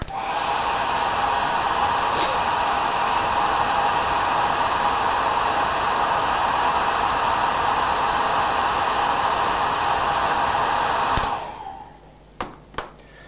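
A hair dryer blows steadily and loudly for about eleven seconds while drying wet paint on a painted figure, then cuts off abruptly, followed by a few faint clicks and handling knocks.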